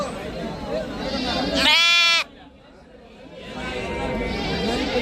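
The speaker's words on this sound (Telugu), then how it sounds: "ఎనిమిది చిన్న చిన్న గుడ్డి గుడ్డి గొర్రె పిల్లలు కొన్నాను" Eight small newly bought lambs bleat, one loud, close, quavering cry standing out amid a busy farmyard murmur, followed by a quiet pause and more faint bleats later.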